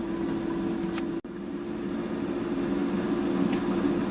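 An air fryer cooking honey garlic wings gives a steady mid-pitched fan hum and whir, constant and close, with only a brief dropout and faint clicks along the way.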